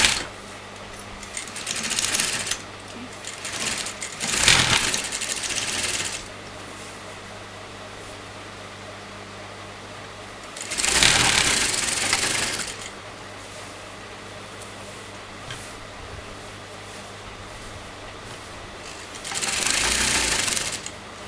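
A sewing machine stitching kurta sleeves runs in several bursts of rapid whirring, each lasting a couple of seconds, separated by quieter pauses with a low background hum.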